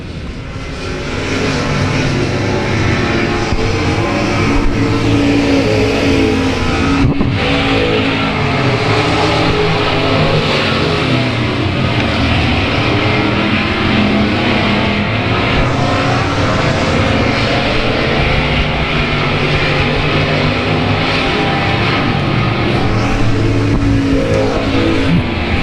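Race cars at South Texas Speedway roar past in a dense, continuous wall of engine noise, loud and steady for the whole stretch with no talk over it.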